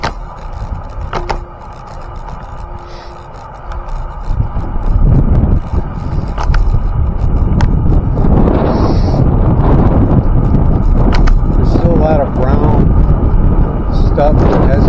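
Wind buffeting the microphone on a rider moving along a grassy meadow trail, a loud, steady low roar that builds partway through and stays strong, with a voice talking over it early on.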